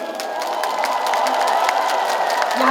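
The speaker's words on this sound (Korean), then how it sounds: "큰 박수 한 소절 보내주시면 노래가 시작될 겁니다" A concert crowd claps and cheers loudly at a live show, a dense wash of applause with scattered whoops building steadily.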